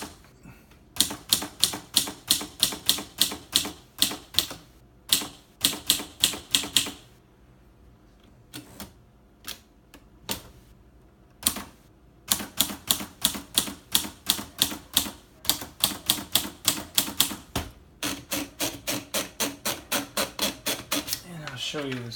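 Typing on a 1953 Gossen Tippa B ultraportable vintage typewriter. Close, crisp runs of mechanical key strikes come in bursts separated by short pauses, and a steady, even run of strokes ends the passage.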